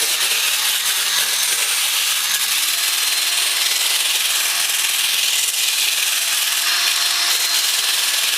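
A tool scrapes and scratches steadily across the surface of a 3-D backdrop to carve rock texture, a continuous harsh, hissing rasp heard close up for several seconds with no voices.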